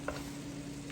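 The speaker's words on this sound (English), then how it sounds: "I'm going to gently toss it a little." Pasta salad being gently stirred and tossed in a bowl, a short, soft, continuous rustle of coated pasta moving, close and fairly quiet with no voices.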